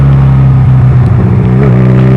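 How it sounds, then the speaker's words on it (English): A Honda Rebel 250 motorcycle engine rises in a quick throttle blip while downshifting to match revs, a steady loud close hum with a short climb in pitch midway and no talking. "when you want to downshift, you have to give it a little bit more throttle"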